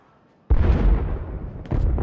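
In Star Wars: The Old Republic, a sudden heavy blast bursts in after a quiet moment, rumbling out, followed by a second sharp explosion near the end.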